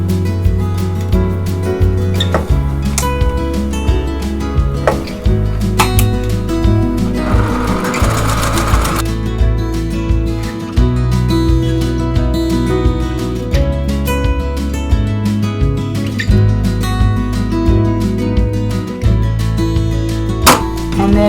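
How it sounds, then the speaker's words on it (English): A sewing machine runs continuously along a drawn diagonal line, stitching quilting fabric for a pieced basket block: a loud, close, steady mechanical whir with a rapid even needle rhythm and brief pauses. "now I'm just going to sew along that line"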